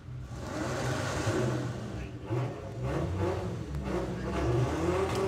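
A Volkswagen Passat Estate drag car's engine roars and revs at a drag strip, a sustained mid-pitched drone rising and falling with crowd and track noise around it.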